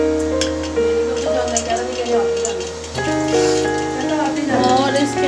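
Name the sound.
half cup of oil poured into a hot kadhai, sizzling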